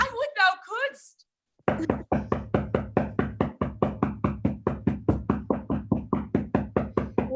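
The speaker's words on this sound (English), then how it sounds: "Oh, here's a knocking indeed." Steady knocking on a door in a home performance of Macbeth, a long run of evenly spaced, firm raps continuing for several seconds after someone speaks briefly.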